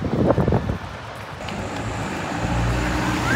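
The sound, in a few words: strong wind blowing in Medina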